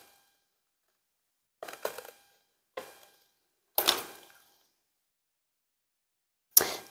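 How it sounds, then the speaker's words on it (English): Scissors cutting out quilt fabric pieces: four short bursts of crisp snipping separated by silent pauses, ending in a sharp snap, close and quiet. "I will really really carefully cut this one out"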